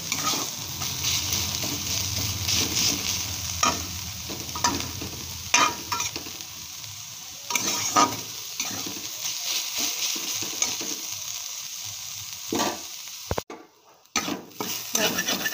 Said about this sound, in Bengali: ভাজা হয়ে গেছে কুমড়ো শাকটা।